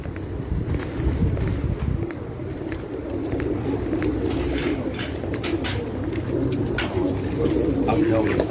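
Pigeons coo on a rooftop loft among paired birds, soft repeated calls rising and falling against a constant outdoor hum, with occasional sharper bird sounds and faint movement.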